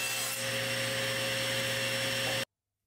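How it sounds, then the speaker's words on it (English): A saw cutting wooden side panels for a DIY bubble lite tube, a steady droning rasp with a constant motor-like hum, close and loud, running without pause before stopping abruptly. "I am now cutting the side panels."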